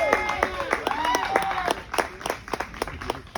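Crowd at an outdoor July 3rd rally celebration cheering and applauding for a choir, with scattered claps, whoops and voices rising together in a steady, lively wash.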